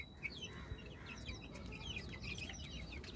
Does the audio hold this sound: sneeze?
no